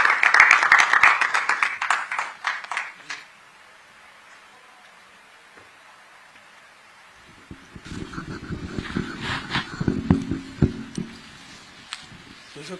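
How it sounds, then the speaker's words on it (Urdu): Applause for two special guests at a talk on the poet Mirza Ghalib, a burst of audience clapping at the start, then a quiet gap, then a second rougher stretch of clapping mixed with room noise. "تو ایک بار زوردار تالیاں ہمارے دو خصوصی مہمان کے لیے"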